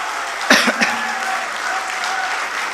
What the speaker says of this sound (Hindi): मुझे एक बार जोरदार ताली बजा करके हुक्म दीजिए।